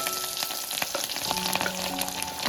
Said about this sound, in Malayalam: ഇനി നമുക്ക് അരിഞ്ഞു വെച്ച പച്ചമുളകും ചെറിയ ഉള്ളിയും ഇതിലേക്കിടാം.